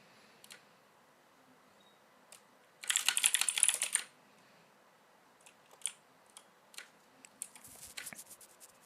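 Typing on a Razer BlackWidow Chroma V3 Quartz Edition keyboard gives a quick one-second flurry of crisp clicky keystrokes, followed by scattered single key taps, faint and close in a quiet room.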